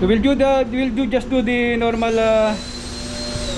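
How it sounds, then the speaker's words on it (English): A vacuum cleaner starts up while a ship's main transformer is being cleaned. Someone speaks over engine-room noise, and then a steady, droning whine with a high tone continues on its own. "so we will vacuum it, take that"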